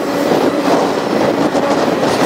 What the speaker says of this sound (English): The train is roaring through another dismal Indiana town